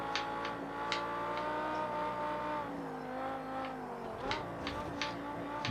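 A race car engine in Project Cars 2 drones steadily and shifts pitch as it accelerates, with brief sharp clicks or shifts scattered through, playing alone without speech.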